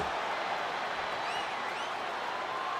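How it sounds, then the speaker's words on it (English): Capacity arena crowd in the WWE 2K25 wrestling game on PS5, a steady, dense roar of cheering from many voices with faint whistles rising through it, sustained without a break. "And do you hear this capacity crowd?"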